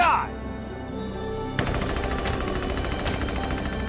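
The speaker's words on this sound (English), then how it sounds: "There's one, no, two enemies up ahead. Open fire, Scott!" Rapid, loud gunfire in Valkyria Chronicles 4, a dense automatic burst erupting after a short quieter lead-in and continuing steadily to the end.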